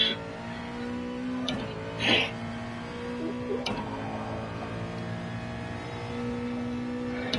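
Race car in a driving game lapping a circuit, a steady engine drone with harmonic whine holding constant, brief rises and a short burst near the middle, no talk over it.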